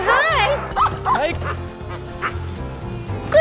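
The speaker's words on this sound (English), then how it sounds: "Good doggies." Sled dogs yip and bark excitedly in quick, irregular bursts close by, mixed with whimpers, as people speak over them.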